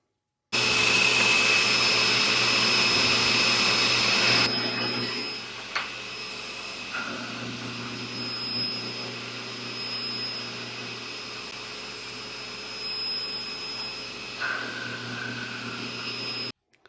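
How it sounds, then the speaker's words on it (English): A buffing wheel polishes a 1937 Dunhill tobacco pipe, a loud steady motor whine that dips in pitch and load when the pipe is pressed against the wheel, running continuously without talk. "we'll let that dry and we'll buff it up"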